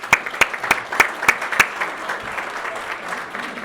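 An audience at a family business awards event claps, with sharp, rhythmic claps up front that thin out into scattered, softer applause.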